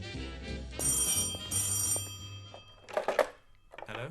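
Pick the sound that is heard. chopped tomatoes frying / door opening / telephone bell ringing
telephone bell ringing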